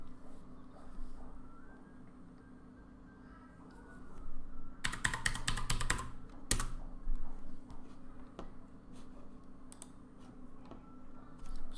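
Password being typed on a computer keyboard: a quick burst of clustered key clicks near the middle, then a single sharp tap, with quiet room hum and scattered faint clicks before and after.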